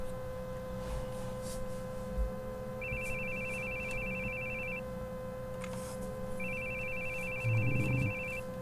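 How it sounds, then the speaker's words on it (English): A phone rings inside a horror video game, two long electronic trilling rings separated by a pause, steady and moderately loud over a low ambient hum and background music. "Your phone's ringing."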